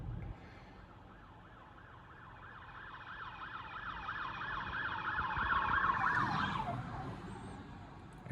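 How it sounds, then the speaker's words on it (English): An ambulance siren wails with a rapid rising-and-falling yelp that grows louder as it approaches along a road, then shifts pitch as it passes, over a low traffic rumble. "And that would be the ambulance."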